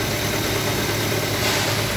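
A 2005 Kia Spectra's engine idles quietly and evenly, a smooth low hum heard up close with no talking over it.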